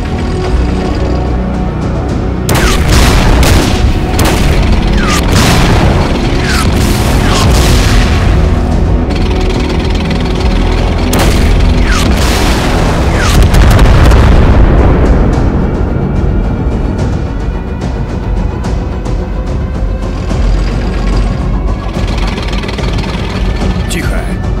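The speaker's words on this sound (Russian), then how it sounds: "По нам начинает работать артиллерия." Artillery barrages pound a tank position in an animated war cartoon, with loud, repeated booming blasts and rumbling that roll on for most of the stretch while voices are heard in the mix.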